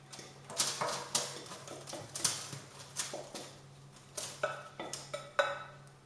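Shortbread mixture tipped from a bowl into a baking pan, heard as a series of scraping knocks and clinks of a utensil against the bowl and pan, irregular and fairly close, with no voices.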